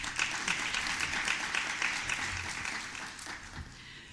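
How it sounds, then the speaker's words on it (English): A round of applause from a forum audience for the panelists, dense clapping from many hands that fills the space, then gradually thins and fades toward the end. "I would like to invite you all to give a big round of applause to the panelists."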